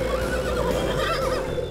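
A horse whinnies loudly and steadily for under two seconds, close and alone against a dense background.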